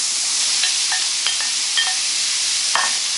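Cucumber and meat are stir-fried in a hot pan, giving a constant loud sizzling hiss with a few light clinks of the utensil against the pan.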